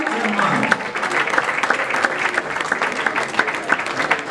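An audience at an awards ceremony for music artists from the Republic of Congo applauds loudly and steadily, with sustained dense clapping that never stops.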